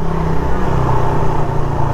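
A Raider 150 motorcycle with a carburetor engine drones loudly and up close in a continuous buzzing rumble, wavering slightly in pitch, with no talking over it.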